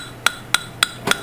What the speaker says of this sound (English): And here I'm doing random hammer strikes to break up that